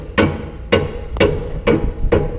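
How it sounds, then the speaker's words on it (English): Five firm, evenly spaced taps of a dead blow hammer striking metal while aligning a lawn striper on a 2017 Hustler Fastrak 60-inch mower deck, each a dull thud with a slight ring, close and loud. "I'll just use the dead blow hammer"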